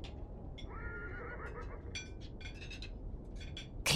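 A horse whinnies in Beyond: Two Souls at a Navajo ranch, a long wavering neigh over steady outdoor ambience, followed by scattered clinks and hoof-like knocks nearby.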